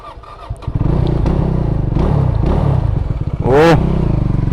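A Benelli motorcycle engine catches after a few faint knocks and settles into a steady, close, low throbbing idle. It ends with one sharp, brief rev that rises and falls.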